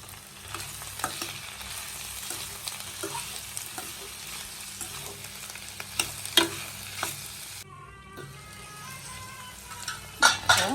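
A pot of drumstick curry seasoned with salt and turmeric gets stirred over a low, steady sizzle, with scattered spoon scrapes and taps against the pot and a few louder knocks near the end; no talking.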